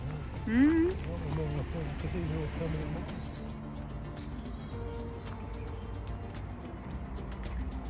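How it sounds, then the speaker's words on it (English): Birds chirp and call in short bright bursts over an outdoor background, with people talking nearby through most of it. "can you hear that bird song?"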